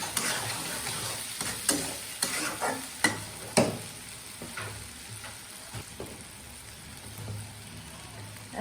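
Diced potatoes sautéing with onion and spices for a potato and spinach curry, a steady sizzle broken by repeated scraping stirs from a spatula, fairly close, with no talking.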